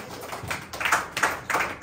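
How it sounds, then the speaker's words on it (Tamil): A church congregation clapping hands in praise during a Tamil sermon, heard as a few uneven bursts of claps at moderate distance, with no speech over them. "கைத்தட்டி ஆண்டவரை மகிமைப்படுத்துவோம்."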